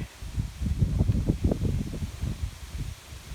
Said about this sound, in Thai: ลมก็แรงครับวันนี้